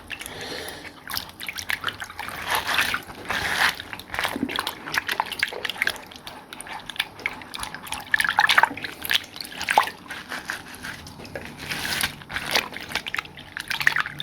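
Vintage 1990s mermaid dolls are swished and splashed in water, with irregular sloshing, drips and trickles close by, coming in uneven bursts over the whole stretch.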